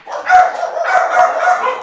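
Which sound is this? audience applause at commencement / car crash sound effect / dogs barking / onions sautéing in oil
dogs barking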